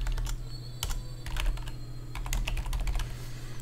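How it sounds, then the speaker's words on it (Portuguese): Rapid typing on a computer keyboard as a page name is entered, a busy run of close, sharp key taps in uneven bursts with short pauses, over a low steady hum. "vamos dar um nome aqui, ó. Vou colocar aqui Página Osmar."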